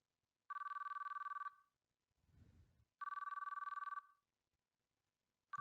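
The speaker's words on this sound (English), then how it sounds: "The only thing I heard was the endless ringing sound." A telephone rings in the visual novel game ChäoS;Child, giving two loud, electronic one-second trilling bursts separated by a quiet gap with a soft low rumble, then a third ring beginning at the end.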